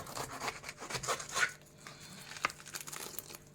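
A knife saws through a whole pineapple in short rasping, fibrous strokes, close but fairly quiet, with a few crisp cracks as the blade breaks through the tough skin.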